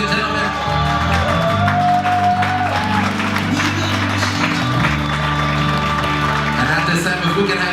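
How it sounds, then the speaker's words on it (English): Applause breaks out at a wedding reception, a steady wash of clapping from the guests that carries on under music and an announcer's voice throughout. "Big round of applause, ladies and gentlemen."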